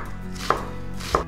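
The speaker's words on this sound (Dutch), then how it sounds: "met snijden van het uitje. Het uitje. Probeer hem lekker fijn te snijden." Two crisp knife chops on a cutting board as an onion is sliced finely for shakshuka, spaced about half a second apart, close and clear with no talking.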